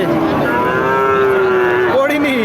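A calf at a cattle market lets out one long, loud, close moo that holds steady, then rises into a short second call at the end, while market bustle murmurs faintly beneath.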